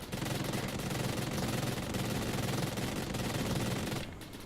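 Helicopter machine gun firing on infantry in the open during a training exercise, a sustained dense rattling burst lasting about four seconds before cutting off, loud and close.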